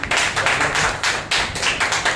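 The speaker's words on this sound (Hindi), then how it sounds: "और राजा राम भैया के लिए जोरदार एक ताली बजाइए।" A church congregation at a Wednesday service claps in applause, a brief loud burst of many hands with a few uneven swells, no voices over it.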